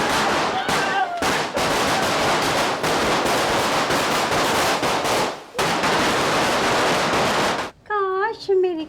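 Firecrackers set off for a Diwali celebration, a long run of dense, rapid crackling bursts with brief gaps, loud and close, ending as a voice rises at the end.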